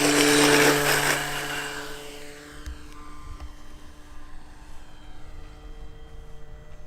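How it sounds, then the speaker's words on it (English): A brushless four-channel RC Cessna 182 model airplane runs at full throttle on a 1300 mAh battery, its steady high electric whine loudest at first and then easing as it moves away, droning on outdoors without voices. "This is full throttle with a 1300 milliamp battery."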